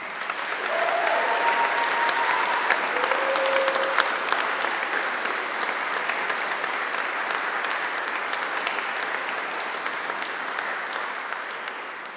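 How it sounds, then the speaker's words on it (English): A large audience at a graduation ceremony gives a huge, sustained round of applause for the graduates, thick continuous clapping holding steady for over ten seconds, with a few faint whistles early on. "can we all start with a huge round of applause for our graduates tonight"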